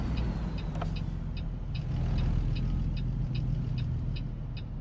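A big truck in an owner-operator trucking simulator game, with a steady low engine rumble and a row of evenly spaced high beeps or ticks running over it.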